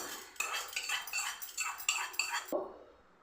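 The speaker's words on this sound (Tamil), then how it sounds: "இந்த நம்ம வறுத்து வச்சுருக்கிறோம் இல்லைங்களா இந்த உளுந்தையும் அதுக்குள்ளே போட்டுருவேன்" Roasted urad dal is tipped into a grinder jar, giving a quick run of dry rattling and clinking as the lentils pour in and strike the jar. The sound is close and fairly brisk and ends in a short knock, with no talking.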